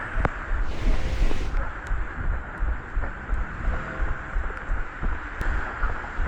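Steady wind rushes across the microphone of a runner jogging in the rain, a loud, continuous broadband roar with faint rustling and a few sharp ticks, and no voices.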